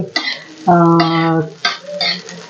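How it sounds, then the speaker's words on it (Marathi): Ground green chili masala paste is roasted in hot oil in a pan, with close, loud scraping stirs and squeaky spatula strokes over a light sizzle in short bursts, with no talking. "आता हे वाटण आपल्याला छान तेलावर भाजून घ्यायचं"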